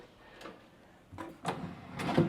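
Hotel-room drawers at a beach resort in Jomtien, Pattaya, opened one after another: quiet wooden slides and thumps, a soft one first, then two or three louder ones close together, faint and near.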